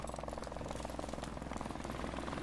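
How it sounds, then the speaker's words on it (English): A friendly helicopter arrives in the video game Modern Warfare Remastered, its steady rotor chop and engine drone humming faintly and continuously in the background. "Friendly helicopter on the way."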